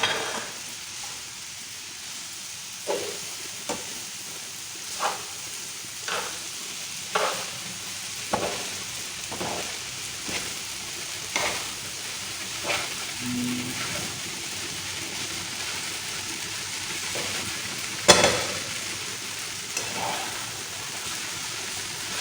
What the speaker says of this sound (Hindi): चूल्हे को तेज कर देते हैं, मिर्च डाल देते हैं।